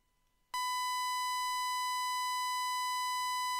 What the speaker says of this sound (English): For example, a sawtooth wave.